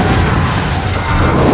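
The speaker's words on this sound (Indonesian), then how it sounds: "menembak sebuah tabung gas dan ruangan tersebut pun meledak" Explosion in a film after a gas cylinder is shot, a loud, dense, continuous roaring blast filling the whole moment with heavy low rumble.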